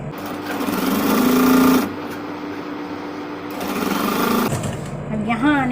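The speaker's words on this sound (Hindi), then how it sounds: "अब मैं इसको यहाँ से ऐसे स्टिच करना शुरू" A domestic sewing machine runs in steady bursts as it stitches blouse fabric for a boat-neck princess-cut blouse, with someone speaking over it and brief pauses between stitching runs.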